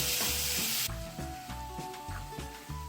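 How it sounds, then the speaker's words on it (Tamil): Green turkey berries sauté in a hot pan with a bright, loud sizzle at first, then settle into a continuous frying crackle with repeated stirring scrapes and knocks. "இதெல்லாம் போட்டு நல்லா வதக்கிடணும்."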